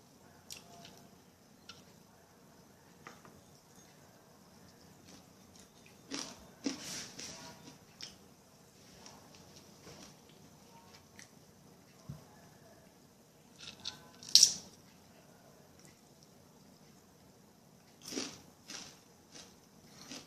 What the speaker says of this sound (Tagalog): Crunchy yung aking tuyo.